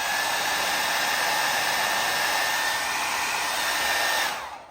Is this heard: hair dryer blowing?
yes